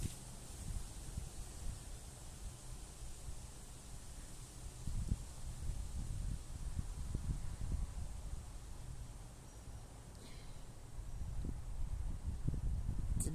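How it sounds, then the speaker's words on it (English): Steady outdoor wind buffeting the microphone, a low rumbling roar with gusty surges that rise and fall throughout, with faint rustling and no voices. "It's a bit windy today,"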